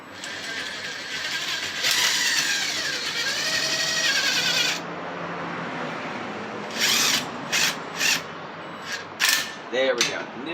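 A spring compressor is tightened on a Pontiac Fiero strut spring, with a long loud power-tool whir followed by several short bursts and faint squeaks.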